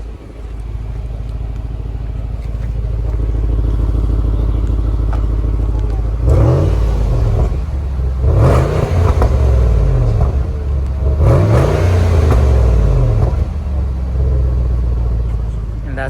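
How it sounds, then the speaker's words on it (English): A 2013 Range Rover Sport Autobiography engine idles with a deep, loud exhaust rumble, then revs hard in three or four rising bursts close by, settling back to idle between each. "That's the exhaust for you guys."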